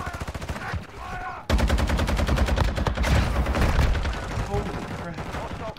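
Rapid automatic fire from a Lachmann 762 rifle in Call of Duty on the Shipment map: loud, sustained bursts with a short pause, while a voice talks over the shooting.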